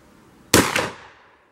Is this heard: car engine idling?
no